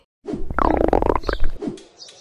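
A loud, drawn-out gurgling stomach growl, an animated cartoon sound effect, rumbles for over a second and then fades, alone without talk.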